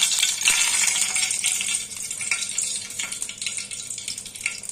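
Dried red chillies frying in mustard oil in a wok, a steady close sizzle with bright crackling spits throughout, slightly quieter after the first two seconds.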